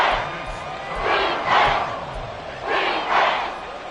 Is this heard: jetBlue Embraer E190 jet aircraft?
no